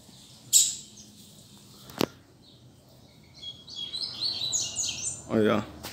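A double-collared seedeater (coleiro) songbird sings in a bright burst of chirps and trills, with a sharp call near the start, a click, then a longer twittering phrase, fairly close and without talk.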